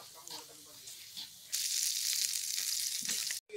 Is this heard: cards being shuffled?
no